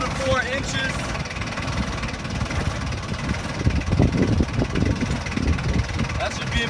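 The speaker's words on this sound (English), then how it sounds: "you're going to want to lift your forks up off the ground 2 to 4 inches" A forklift engine idles and revs steadily at close range while the forks are raised a few inches off the ground. A voice speaks over the rumble.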